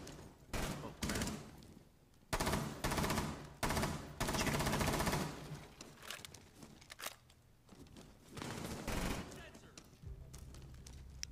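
Gunfire in Rainbow Six Siege, repeated automatic bursts and single shots of varying length at close range, loud and rapid, with some shuffling movement between volleys.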